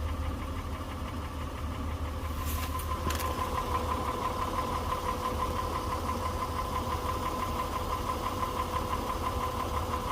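A 2004 Honda Odyssey engine running after a repair, idling with a steady, even hum and faint mechanical ticking, close by and continuous, with no voices.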